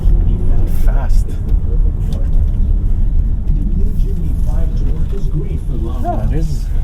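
A Kia Carnival minivan with a 2.2 diesel engine pulls hard in sport mode, a deep steady engine rumble and road noise heard from inside the cabin while someone talks over it.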